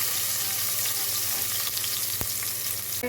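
Cashews, green chili and onion frying in ghee with a steady, close sizzle and an occasional stir, no talking.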